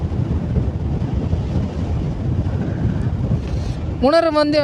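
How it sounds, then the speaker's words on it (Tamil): Steady, roaring wind buffets the microphone while riding a TVS Ntorq 125 scooter on an open road, with someone talking over it at the end. "காற்று சில்லுன்னு அடிக்கி."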